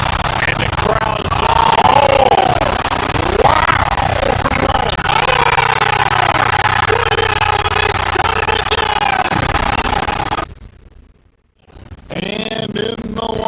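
Crowd noise from an NBA 2K basketball video game: a loud, sustained arena roar with yells and whoops, broadcast commentary talking over it, dropping out briefly near the end before resuming.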